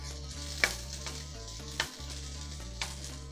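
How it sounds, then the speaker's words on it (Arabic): Tomato cubes and tomato sauce are stirred in a pan, with a steady close sizzle and occasional scraping clicks of the spoon. No one speaks. "حط بقى كده مكعبات الطماطم بصوص الطماطم واقلبه بالشكل ده كده"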